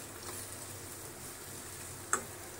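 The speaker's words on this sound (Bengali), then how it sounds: "পেঁয়াজটা অল্প একটু ভাজা হোক।" Sliced onion fries in a small karahi with a faint, steady sizzle, broken once by a sharp click of a utensil.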